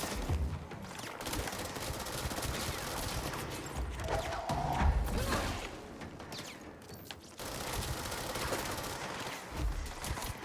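Sustained gunfire in the video game Control, a dense, continuous rattle of rapid shots with booming low thuds, loud throughout with a brief dip before resuming.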